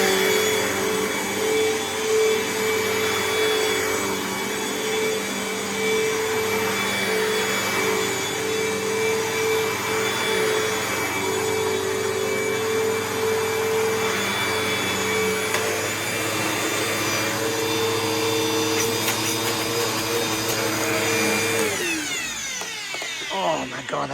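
A Bissell vacuum cleaner with worn-out bearings runs steadily and loudly up close, a droning motor whine with grinding harmonic tones that persists for many seconds before winding down at the end.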